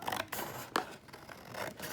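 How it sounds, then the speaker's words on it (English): Scissors cutting a folded sheet of paper down the middle, quiet close-up snips and scraping paper rasps in a few uneven strokes, alone without talk. "I'm going to take my scissors and I'm going to cut down the middle"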